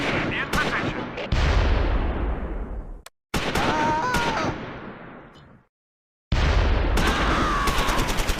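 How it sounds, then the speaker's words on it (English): Bursts of rifle fire from anti-tank gunners in the Close Combat 4 video game, set in the Battle of the Bulge, crack loudly in three separate volleys of sharp shots with echoing tails, each cut off by brief silence. "The anti-tank gunners open rifle fire at long range."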